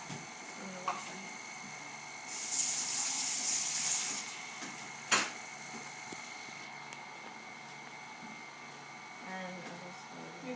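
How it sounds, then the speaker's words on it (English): Tap water runs into a sink for a couple of seconds as someone washes their hands in a kitchen. A steady hiss sits over a low room hum, with a sharp knock soon after and quiet background noise around it. "I'm gonna wash my hands."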